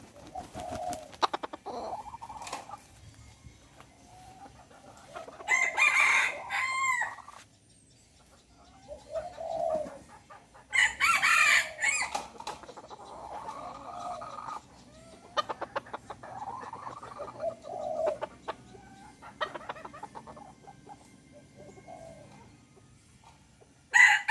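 A game rooster crows repeatedly in a rural setting, several drawn-out calls fairly close with clucks and other bird sounds between them.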